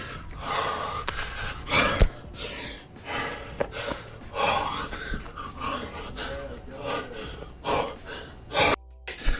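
A rock climber on a hard route breathing heavily, with loud, close, ragged gasps and huffs in an uneven rhythm that continue throughout, along with some muffled voice-like sounds.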